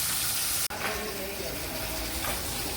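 Tilapia fish frying in hot oil in a wok gives a steady, close sizzle with a brief break early on.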